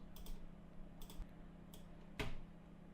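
Chord names are typed on a computer keyboard in a few sparse, soft key clicks, close and quiet over a faint steady hum.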